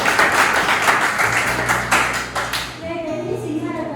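Students in a high school civics classroom break into brief applause, a burst of many hands clapping that fades after a few seconds into quieter room sound and faint tones.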